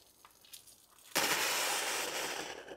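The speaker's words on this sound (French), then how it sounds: "on va faire cracher tout ça. Ouais, j'entends de l'air dans le tuyau" A pipe purging air and water from a circuit suddenly bursts into a loud, sustained spitting hiss, which takes over after a quiet opening and continues noisy and broadband to the end.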